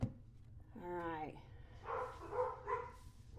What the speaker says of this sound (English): Sorry if you can hear my dogs in the background.